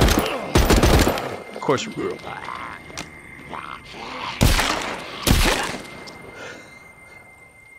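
Several AR-416 rifle shots fire in the zombie survival game The Walking Dead: Saints & Sinners, loud sharp bursts spaced through the clip, with someone talking at the start.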